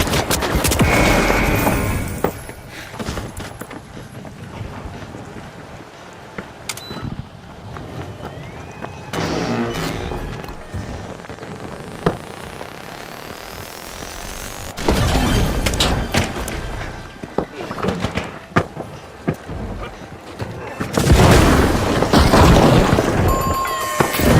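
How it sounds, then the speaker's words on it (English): Pyro grenade blasts and chaotic gunfire in the shooter The Finals, with repeated loud booms and rattling fusillades that swell and fade, peaking in dense bursts near the end. "Throwing pyro grenade."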